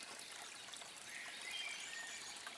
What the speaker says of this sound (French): Un ruisseau murmure non loin, son eau limpide scintille sous les derniers rayons dorés du soleil.